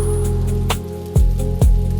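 Soft, steady rain patters under a calm night ambience near Tokyo, with a sustained hiss of falling drops and a couple of low, swelling swooshes or drips breaking through; no voices.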